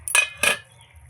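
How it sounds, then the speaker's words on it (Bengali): A lid is lifted off a pot of country-chicken egg curry simmering on the stove, giving two quick, close metallic clanks a few tenths of a second apart, followed by quiet. "ঢাকাটা তুলে নিচ্ছি"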